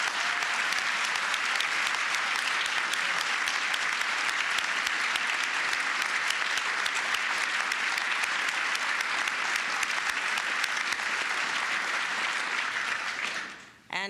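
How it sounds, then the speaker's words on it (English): Luncheon guests at a state visit hosted by Secretary Blinken and Vice President Harris for Prime Minister Albanese applaud the Secretary, with dense, steady, even clapping filling the room for about fourteen seconds before fading out. "Can we please applaud our Secretary?"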